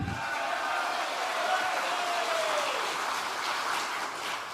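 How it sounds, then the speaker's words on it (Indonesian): Applause from an audience at an Indonesian political gathering, a steady broadband patter of clapping with a faint tonal whistle through the middle, moderately loud and continuous without speech. "Tepuk tangan lagi."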